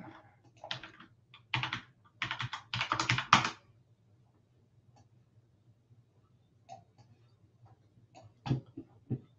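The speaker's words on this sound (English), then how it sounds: "Just type it in." Typing on a computer keyboard during an online meeting about deal analysis: several quick bursts of clattering keystrokes close to the mic, then a long quiet stretch with a few scattered single key taps and a low steady hum underneath.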